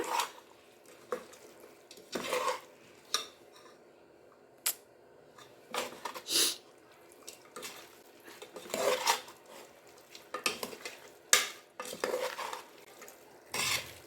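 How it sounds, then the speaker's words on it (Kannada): A spoon stirs black mutton masala for mutton head curry in a metal pot, producing irregular close scrapes and clanks against the pot, separated by quiet pauses, with faint sizzling underneath. "ಇದೊಂದು ಪೂರ್ತಿ ಕಪ್ಪು ಮಟನ್ ಮಸಾಲ ಮಿಕ್ಸ್ ಮಾಡ್ಕೊಂಡೋಣ"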